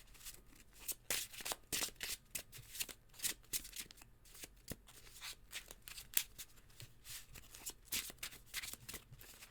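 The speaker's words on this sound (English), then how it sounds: "Do this quick little power shuffle." Rapid riffling of playing cards in quick repeated bursts, crisp and close, with brief pauses between shuffles and no talking.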